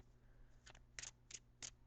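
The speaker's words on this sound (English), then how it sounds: "So I'm going to shuffle the cards." A deck of tarot cards is shuffled with a few soft, quick riffling bursts in a quiet room, close and faint, with no talking.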